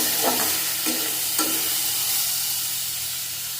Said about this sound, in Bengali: টমেটোকে একটু ভেজে দেবো ভালো করে